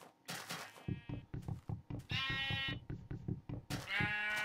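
Video game sheep bleat repeatedly in drawn-out, wavering cries over a rhythmic thumping pattern, loud and close, with no talking.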